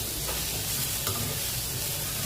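Green chillies sautéing in a pan for a Tamil sundakkai kadasal, a steady soft sizzle with stirring scrapes running throughout, close and moderately quiet with no talking.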